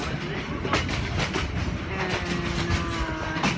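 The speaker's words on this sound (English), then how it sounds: "This railroad is called the Circular Train." Yangon's Circular Train rolls along its rails with a steady rhythmic clickety-clack of wheels over joints and a constant loud rumble, close by.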